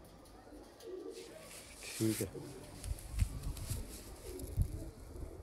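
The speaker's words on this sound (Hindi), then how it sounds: "लो जी देखो कबूतरी देखो, ये नर देखो जी" Pigeons, a male and a female, give soft low coos in a few short bursts at close range, while someone speaks briefly over them.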